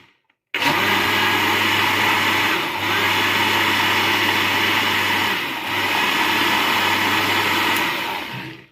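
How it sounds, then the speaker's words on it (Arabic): An electric blender whirs steadily at full speed through batter made with eggs, a loud, continuous drone that starts abruptly and runs for several seconds, dipping slightly twice, with no talking. "احلى شغل معاكي شغل الخلاط في اي حاجه"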